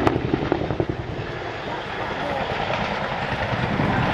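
RAF Chinook HC4 twin-rotor helicopter flying a display at Yeovilton Air Day, a loud, close, rumbling roar with a rapid pulsing blade chop, continuous throughout.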